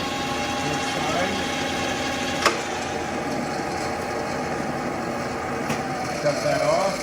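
A Clausing 5914 metal lathe running steadily after its drive is engaged, a constant mechanical hum and whir with a couple of brief clicks, heard close in a workshop.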